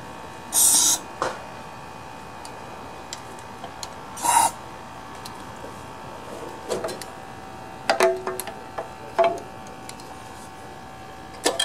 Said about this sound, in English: I'm going to see if I can't get some carburetor cleaner down into the carb